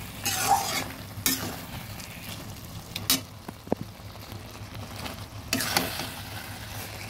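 Fish head and taro greens stir-fried in a pan: steady sizzle with repeated scraping strokes of a spatula, several sharp clinks and stirs spaced across, close and moderately loud with no talking.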